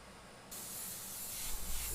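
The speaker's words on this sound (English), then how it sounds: "Don't spray a lot here, just a little, and I'm coming down there." An airbrush sprays paint onto a skull design, a steady airy hiss that starts softly and swells louder partway through, continuing without speech.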